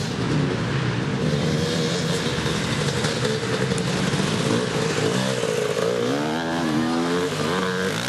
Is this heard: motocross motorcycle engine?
yes